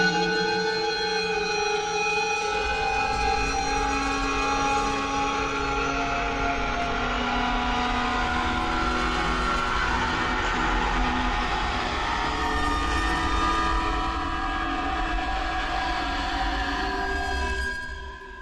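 Atonal Ghost Bows sound design samples from the Presage library form a dense, sustained drone of layered shimmering bowed tones that stays loud and steady, then fades slightly at the end.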